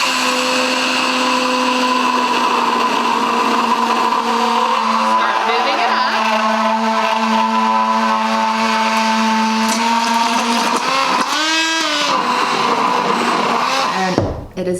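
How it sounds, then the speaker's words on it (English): An immersion blender whirs steadily through keto mayonnaise, a loud continuous motor drone whose pitch shifts and rises as the emulsion thickens, ending with a brief clatter as it stops. "Go ahead and put your emulsion blender in. Put it all the way to the bottom"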